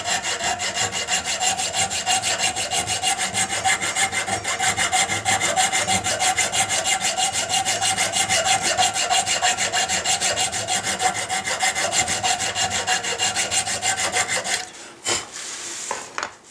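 A coarse file rasps steadily across a metal ramrod thimble clamped in a vise, the flat of the vise guiding each stroke in a continuous gritty scraping that runs for about fifteen seconds, close and loud, then stops.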